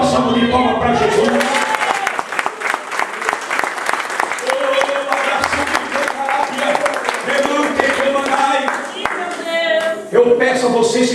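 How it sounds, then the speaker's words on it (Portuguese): Church congregation gives a hearty round of applause, dense and continuous clapping with some voices and cheering mixed in throughout. "Dê uma salva de palmas para Jesus"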